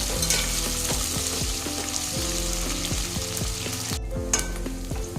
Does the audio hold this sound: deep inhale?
no